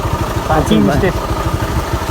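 A motorcycle engine idles with a low, steady, close-up throbbing putter as the bike comes to a stop. A voice is heard briefly over the engine.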